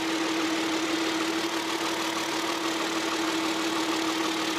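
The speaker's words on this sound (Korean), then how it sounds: "가장 중요한 엔진 소리 한번 들려드리도록 하겠습니다" A Hyundai Grandeur HG's engine idles with the engine bay open, a smooth, even, continuous hum with a steady tone, heard up close with no one talking.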